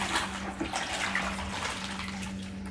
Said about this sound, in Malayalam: ഇനി നമ്മൾ കുറച്ചും കൂടി വെള്ളം ഇതിലേക്ക് എടുക്കുക.